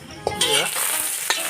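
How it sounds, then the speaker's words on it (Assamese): Onions hit a very hot kadai and fry with a bright, close sizzle, punctuated by a couple of sharp stirring clinks. "পিঁয়াজ দিলোঁ, বহুত গৰম হৈ আছে দেই কেৰাহী"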